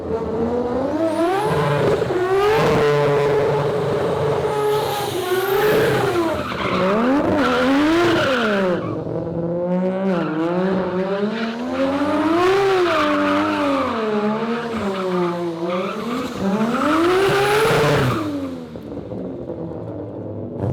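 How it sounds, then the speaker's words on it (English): A three-rotor Mazda RX-7 burns out slowly down an alleyway, its loud rotary engine revving and wavering in pitch while the tires squeal continuously, close and with no talk. "just burning out slowly down the back of the alleyway"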